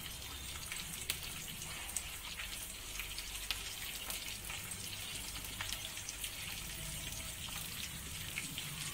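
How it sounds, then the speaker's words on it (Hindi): Onion and capsicum fry in a pan, a steady soft sizzle with scattered tiny crackles and pops, moderately quiet and close, with no talking. "मैं इसे थोड़ा भूनूंगी।"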